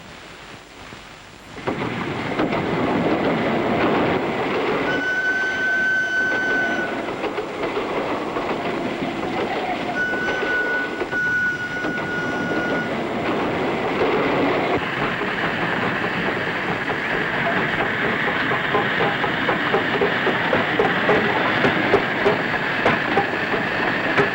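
A train rumbles past loudly after a quiet start, a long heavy roar with rhythmic clatter and brief horn-like tones over it.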